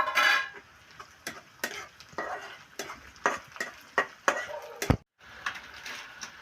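Ginger, garlic and green chilies frying in a pan for a fish curry, with a soft sizzle under repeated sharp clinks and scrapes of a stirring spoon, close by.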